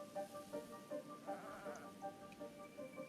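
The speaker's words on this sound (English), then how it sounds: "I hear a goat." Goat bleating in the video game Zelda Breath of the Wild, repeated short bleats in a steady rhythm over soft ambient game background, moderately loud and alone.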